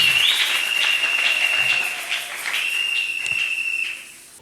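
A congregation at a wedding blessing cheers and applauds, with loud sustained shrill whistling over a wash of clapping that fades toward the end.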